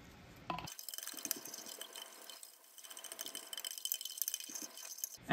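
Water poured into a container to top up black-and-white film developer solution to the 1 liter mark, with soft trickling and dripping splashes in a quiet room.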